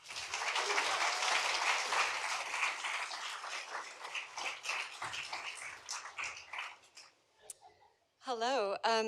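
An audience at a literary LGBTQ+ celebration breaks into close, lively clapping that fades over several seconds into scattered claps, followed by a brief spoken voice at the end.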